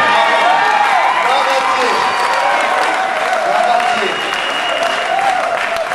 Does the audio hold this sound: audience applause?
yes